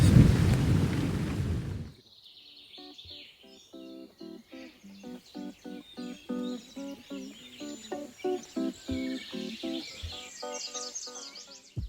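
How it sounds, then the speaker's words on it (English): A loud rumble of thunder from a storm over a forest campsite in Bavaria roars briefly, then quiet follows as birds begin chirping in quick repeated calls. "when the rain is hammering on the tarp and the thunder is rolling through the trees"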